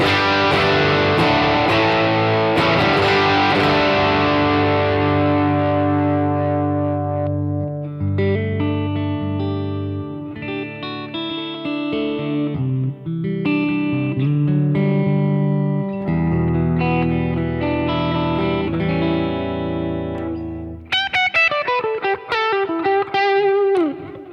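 An inexpensive $350 electric guitar rings out through effects, with a loud distorted opening chord left to sustain and decay, then picked notes and chords heavy with reverb and echo, ending in a bright run of higher notes.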